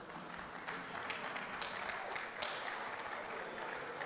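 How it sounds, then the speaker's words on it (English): An audience at a master class gives a presenter a dense, continuous round of applause, faint and distant, with no voices over it. "Please, let's clap for him again."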